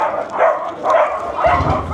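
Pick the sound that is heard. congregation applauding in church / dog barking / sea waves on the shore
dog barking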